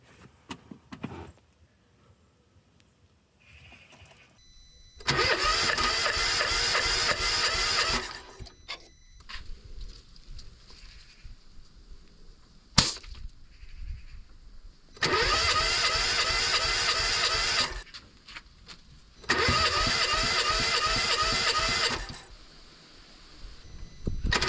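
A four-cylinder Fiat 500 engine cranks over without firing during a compression test, sounding in three loud, steady bursts of several seconds each, separated by quieter pauses with small clicks and background noise.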